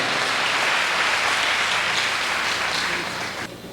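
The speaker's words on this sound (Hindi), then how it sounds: "ज़रा एक बार मन भर के आप तालियाँ बजा दें।" Sustained audience applause fills a hall at a Hindi speaking event, a dense, steady wash of clapping that holds loud for several seconds before tapering slightly at the end.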